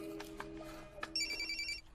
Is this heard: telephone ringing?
yes